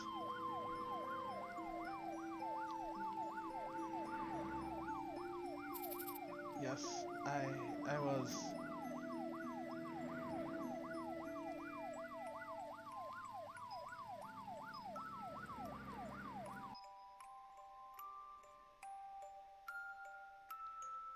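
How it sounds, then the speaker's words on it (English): A wailing ambulance siren in the video game Troubleshooter, its pitch sweeping up and down over layered game music and effects, then cutting off abruptly; a voice speaks briefly near the end. "The ambulance has arrived."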